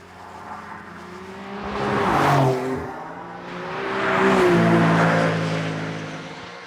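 A car engine revs up twice, each surge climbing loudly then falling back, with a steady rumble between the bursts.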